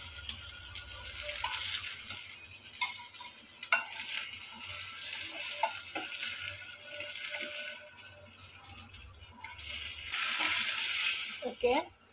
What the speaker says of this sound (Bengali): অলরেডি আমার মাছটা ফ্রাই হয়ে গেছে